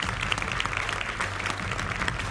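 Dense applause from a crowd, many hands clapping steadily and fairly close, with no talking over it.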